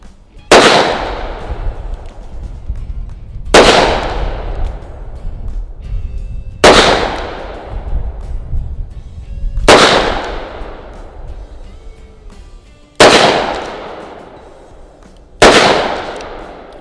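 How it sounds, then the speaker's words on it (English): Six full-power .357 Magnum revolver shots ring out at a steady spacing of roughly three seconds, each a sharp, loud crack followed by a decaying echo, with no talk between them. "that was full power 357 Magnum"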